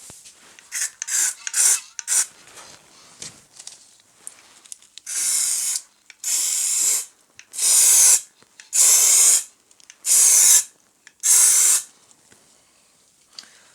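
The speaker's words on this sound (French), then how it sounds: "Par contre, ça envoie un spray, mon copain." Spray paint can hissing onto a car windscreen during antenna removal work, first in short quick bursts and then in about six long, loud, evenly spaced sprays with brief pauses between them, no talking.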